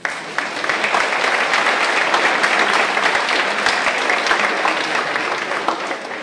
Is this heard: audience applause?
yes